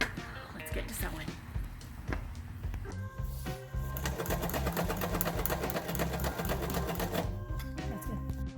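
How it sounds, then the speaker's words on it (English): Sewing machine stitching fabric for window shades for a RAM ProMaster van, starting with short stop-and-go bursts, then running steadily in a fast, even mechanical chatter, close and fairly quiet. "let's get to sewing."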